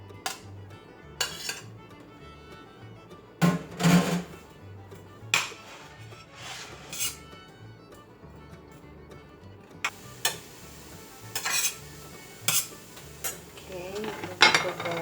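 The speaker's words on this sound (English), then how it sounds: "now we're gonna cook the ground beef with the onion and peppers" Ground beef frying with onions and peppers in a pan, with scattered clinks and scrapes of a utensil against the pan and occasional sizzling, fairly quiet and close, no talk.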